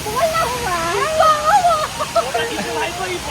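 Water flows at a waterfall, a steady broadband rush that runs throughout beneath loud, continuous speech from people nearby.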